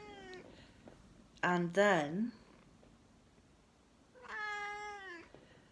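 A pet cat meows several times close by, with a short pair of cries followed by a longer drawn-out meow a couple of seconds later, heard in a quiet indoor room.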